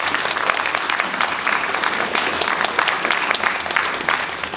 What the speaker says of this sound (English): let's just give ourselves a round of applause and the students